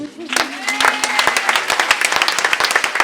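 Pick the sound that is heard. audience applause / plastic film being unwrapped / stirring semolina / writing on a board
audience applause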